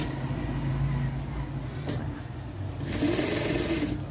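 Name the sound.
sewing machine stitching piping on fabric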